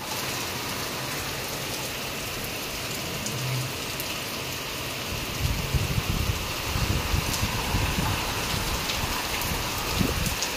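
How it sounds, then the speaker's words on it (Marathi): Heavy rain pours down steadily during a power cut, a dense, continuous hiss of drops drumming on surfaces that grows heavier and more pattering partway through, with no voices. "आज एक कसला पाऊस आहे"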